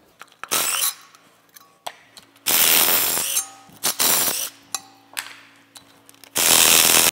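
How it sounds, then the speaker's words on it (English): A wrench works an exhaust manifold stud loose on a CAT C15 diesel engine: several sharp metallic clicks and ratcheting bursts in an irregular stop-start rhythm, close and fairly loud, with quiet gaps between turns. "So you remove it all the way with, with a wrench."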